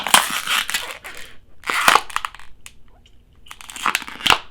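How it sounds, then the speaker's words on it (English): Crinkling plastic bottle breathed into in a tense horror movie scene, with bursts of crackling and crumpling rising and falling amid quiet pauses, close and fairly loud, with no talking. "He grabs a plastic bottle and breathes into that."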